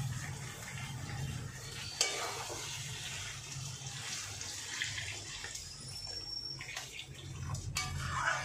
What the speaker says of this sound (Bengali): আমি এবার এটার মধ্যে জল দিয়ে দিচ্ছি।